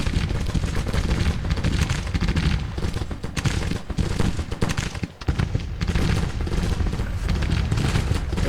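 Dense artillery and musket fire from a Civil War battle in the Grand Tactician strategy game, with continuous overlapping volleys, booms and crackling gunfire that barely let up for the whole stretch.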